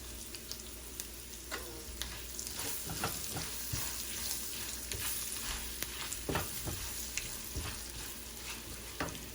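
Meat frying in oil with chilli and spices for Hyderabadi pickle, giving a steady, close sizzle with occasional stirring scrapes throughout and no talking.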